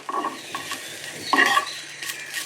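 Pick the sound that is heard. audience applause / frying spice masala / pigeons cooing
frying spice masala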